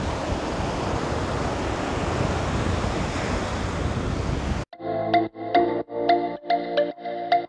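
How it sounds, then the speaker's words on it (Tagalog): Strong wind at a beach on Boracay buffets and roars continuously for several seconds, then cuts abruptly to a separate stretch of rhythmic, pulsing sounds. "Kaya lang, malakas talaga yung hangin."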